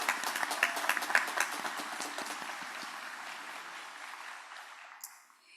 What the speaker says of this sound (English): Please let us have another round of applause for our cohort of doctoral degrees from Elizabethtown College